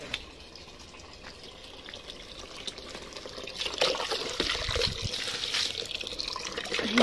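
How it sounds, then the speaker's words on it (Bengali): Water is poured over heat-dried garden plants, giving a soft, steady splashing and trickling that grows slightly louder toward the end, with no talking. "গরমে একটু জল দিতে হয় বন্ধুরা। সব কটা গাছ শুকিয়ে গেছে গরমে, সকালে দিয়েছি আবার এখন দিচ্ছি।"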